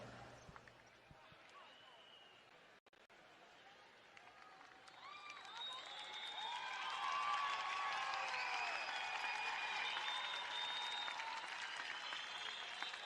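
Crowd at a speed skating world championship in Ibagué, Colombia, cheering and whistling, swelling from a steady distant murmur to a loud sustained roar with shrill whistles over the second half.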